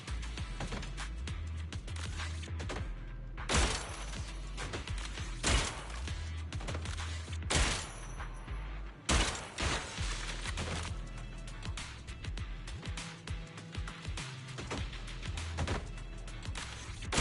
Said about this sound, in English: The gun goes pew.